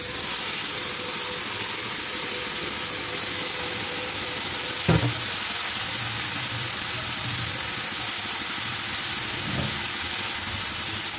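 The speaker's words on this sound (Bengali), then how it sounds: "আমি এবার মূলোগুলো সব দিয়ে দেবো।" Radish pieces frying in hot oil already seasoned with cumin and bay leaf, a steady hissing sizzle with a sharp clatter partway through and a few softer knocks.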